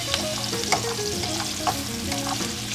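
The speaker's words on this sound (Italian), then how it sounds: "Lo speck è ben soffritto" Speck crackles and sizzles steadily in a frying pan for pappardelle with porcini and asparagus, with a few sharper pops and clicks of stirring over a dense, continuous hiss.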